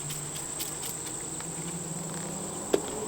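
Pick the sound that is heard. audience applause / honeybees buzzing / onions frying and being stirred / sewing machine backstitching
honeybees buzzing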